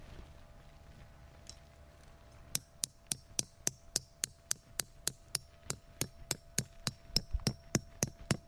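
A hammer strikes about twenty sharp, evenly spaced blows while a hammock camp is set up outdoors, the knocks close and loud after a quiet opening.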